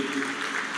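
A church congregation applauds at a Sunday service, a steady wash of many hands clapping with no gaps, filling the brief moment at moderate loudness.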